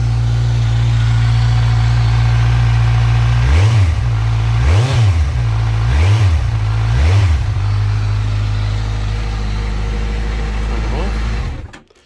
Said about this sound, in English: I'll give the bike a couple of revs for you guys to hear